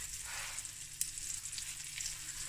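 Rice tipped into a hot pan for braai rice seasoned with paprika and dried parsley, giving a steady close hiss of sizzling with one brief louder crackle, alone without talk.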